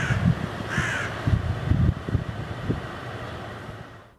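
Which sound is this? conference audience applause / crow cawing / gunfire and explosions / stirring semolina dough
crow cawing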